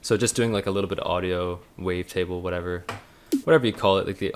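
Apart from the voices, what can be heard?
No everyday noise stands out behind the speech.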